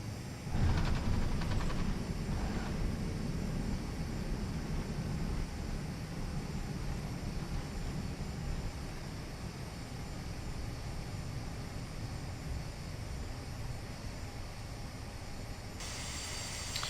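Airliner landing at Madeira Airport in Microsoft Flight Simulator X, with a steady loud engine and airflow roar that holds for the whole stretch, slightly easing partway through.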